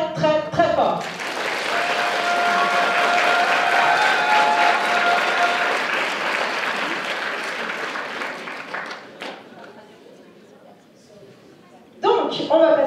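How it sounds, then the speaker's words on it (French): Audience applauding judges of a cosplay contest at a Japan Impact convention prize ceremony, a sustained, dense wash of clapping lasting several seconds, then fading to a quiet hall before speech returns at the end. "Donc vraiment, merci de les applaudir très fort."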